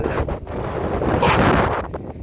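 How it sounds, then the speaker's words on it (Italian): Strong wind on a seaside cape at Almería buffets the microphone in loud, continuous rumbling gusts that swell and ease, with the sea faintly audible beneath. "c'è molto vento, ovviamente essendo al capo"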